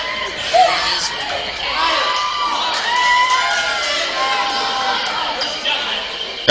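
A crowd at a varsity boys' high school basketball game roars and cheers, with shouts, whoops and children yelling in a loud, sustained din and occasional ball bounces.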